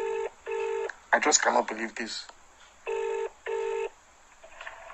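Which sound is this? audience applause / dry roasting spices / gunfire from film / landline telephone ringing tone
landline telephone ringing tone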